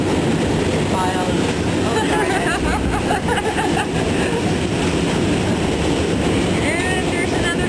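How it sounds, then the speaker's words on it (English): A subway train crosses the Manhattan Bridge with a continuous roaring rumble and a rattle of wheels on the rails, heard from on board, with faint screeches above the din. "And there's another train going by."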